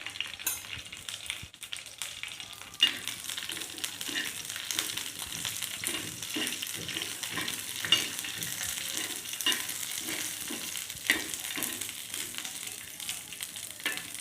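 Ingredients for kawit (wood apple) chutney dry-roasting in a pan, with a steady dry rustle and repeated scraping strokes of stirring throughout, moderately close and without any voices.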